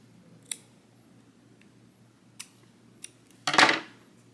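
Scissors snip crochet yarn close by: a few light isolated clicks of the blades, then one louder crisp cut near the end, with no talking.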